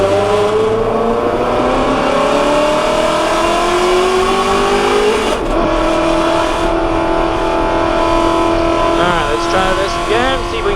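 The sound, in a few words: Ford Mustang GT350 engine at full throttle on track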